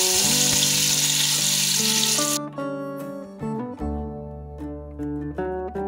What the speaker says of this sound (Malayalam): ബാക്കി വന്ന എണ്ണയിൽ 1 സ്പൂൺ നെയ്യിട്ട് മാരിനേറ്റ് ചെയ്ത വെജിറ്റബിൾസ് ഇടാം